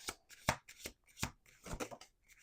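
A deck of playing cards shuffled by hand at close range, in a burst of sharp riffling snaps and soft slides with short pauses between.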